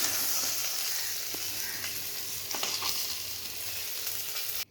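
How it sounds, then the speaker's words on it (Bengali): Fish pieces fry crisp in hot oil in a kadai, with a loud, continuous close sizzle and occasional stirring or spatula scrapes, which cut off abruptly at the end. "মাছগুলো উল্টে দিয়েছি, কড়া করে ভেজে নিব।"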